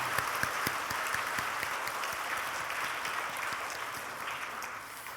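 A church congregation applauds its choir at the end-of-year Sunday service: dense, steady clapping from many hands fills the room, sustained and even throughout with no voices over it.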